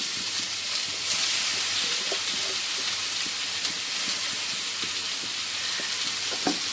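Beetroot fries in an iron pan with a steady hiss and sizzle, broken by repeated scraping taps of a flat spatula as it is stirred, with no talking.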